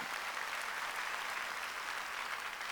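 A church congregation claps together during a Sunday worship service in a brief, steady burst of applause that fills the room, with no speech over it.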